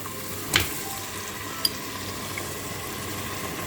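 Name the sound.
meat added and mixed in frying pan for kachalo qorma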